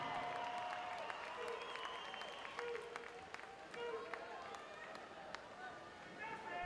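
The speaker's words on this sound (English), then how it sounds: "Folks, it's okay if you want to cheer and make some noise." Crowd at a 2011 Minneapolis swimming Grand Prix butterfly final applauds and cheers faintly in a large natatorium, a distant, reverberant wash of clapping with whistles and high tones, under a commentator's steady talk.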